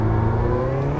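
A car engine fitted with a JET Motors turbo kit running 8 pounds of boost drones steadily and loudly at close range for about a second, with a strong, even low hum and no talking.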